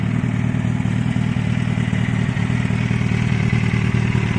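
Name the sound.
four-cylinder roadster motorcycle engine revving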